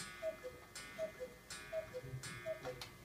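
An antique 1860 cuckoo clock with two metal weights and a pendulum ticks in an even, quiet tick-tock rhythm with faint mechanical clicks, heard alone.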